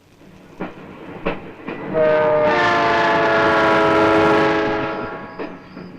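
A train rumbles past with a long, loud horn blast swelling and fading over several seconds, wheels clacking faintly before and after.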